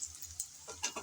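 Onion, chili and garlic fry lightly in a pan, a soft crackling sizzle with a few brief stirring scrapes toward the end, close and moderately quiet.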